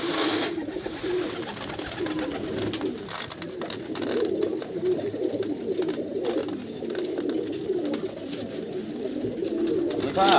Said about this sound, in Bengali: সমিতা মেন ব্রিডিং সেট আপে খুলে দিয়েছে পায়রা, দেখতে পাচ্ছ প্রচুর পরিমাণে পায়রা আছে